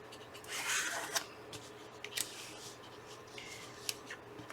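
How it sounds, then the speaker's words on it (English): World's dullest pair of scissors cutting paper for a handmade notebook: a few crisp snipping and crunching strokes, close and fairly quiet, with soft rustling between cuts and no talking. "today I have the world's dullest pair of scissors"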